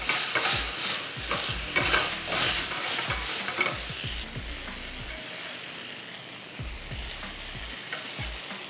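Pieces of food sear in a hot pan, giving a steady close sizzle broken by repeated scraping and stirring knocks of a utensil, with no voices.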